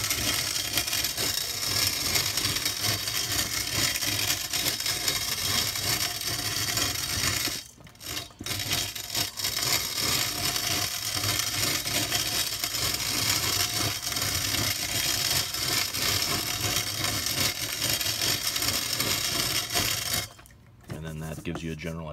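A hand-cranked grain mill grinds red bulgur with a continuous close gritty rumble and scraping, pausing briefly twice as the crank is backed up.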